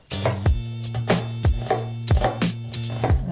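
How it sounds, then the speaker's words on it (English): Onions chopped with a knife on a cutting board, sharp rhythmic thuds in quick clusters, close and loud, over a faint background hum with no talking. "We'll go with chopping up both of the onions."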